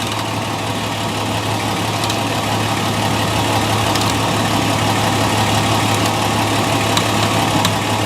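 A 2006 Toyota Tundra's 4.0L V6 idles steadily and loudly up close, a constant low engine drone with no talk over it.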